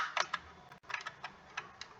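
Keys on a computer keyboard are tapped during a Roblox game, an uneven run of quick, light clicks close by and fairly quiet, with short pauses between bursts.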